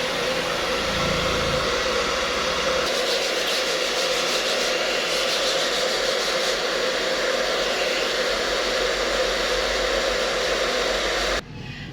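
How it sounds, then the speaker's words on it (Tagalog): A steady, loud electric blower drying screen-print ink roars continuously for about eleven seconds, a broad whooshing hum, then cuts off abruptly near the end. "Blower, blower, blower."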